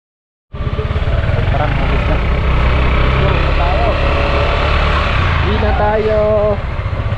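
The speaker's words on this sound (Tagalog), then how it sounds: "And then si Paring Kuutol, iniikot lang kanyang motor." A motorcycle engine runs loud and steady up close, rising and falling slightly as it revs, with no one speaking over it.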